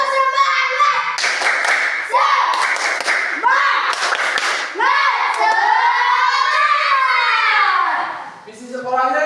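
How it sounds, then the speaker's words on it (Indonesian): Children in a mathematics class clap a rhythmic cheer in sharp bursts, then chant and sing together loudly in unison, their voices rising and falling close by. "Coba kita tepuk dulu,"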